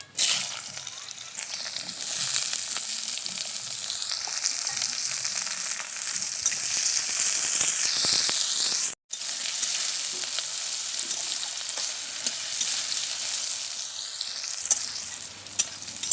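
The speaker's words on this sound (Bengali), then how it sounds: "এবার আমি আলুগুলো তেলের মধ্যে তুলে দেব।" Potatoes sizzle and crackle steadily in hot oil seasoned with five-spice, a bay leaf and a dried chilli, a loud, close, continuous frying hiss with occasional stirring, broken by a brief cut midway.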